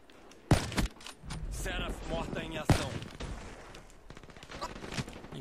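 Gunshots from the video game Call of Duty Black Ops 3 crack out in a few sharp bursts, two louder blasts standing out, while someone talks over the game.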